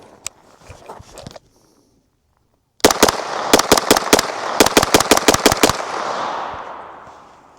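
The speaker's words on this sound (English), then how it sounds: "So let's go ahead and shoot the other one" A Springfield Armory Kuna 9mm roller-delayed pistol fires a quick string of about a dozen sharp, loud shots in uneven pairs and clusters, each crack ringing out and decaying into the open air after a few faint earlier pops.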